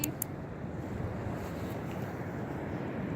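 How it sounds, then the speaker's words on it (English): Strong wind buffets the microphone outdoors on a windy day, a loud, steady low roar with a couple of brief gust bumps at the start. "You take away this crazy wind."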